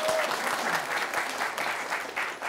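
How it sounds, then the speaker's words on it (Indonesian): An audience applauds at a college event in Palembang, with steady, dense clapping that fills the whole short stretch at moderate volume. "Tepuk tangan dong."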